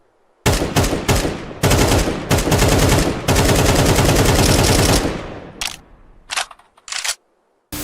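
Loud bursts of rapid automatic AK-47 rifle fire in Counter-Strike 2, several long sustained volleys, then a few short separate bursts trailing off, with no voices.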